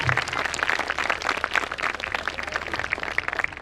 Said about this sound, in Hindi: अच्छा लगा तो जोरदार तालियां बजाएं।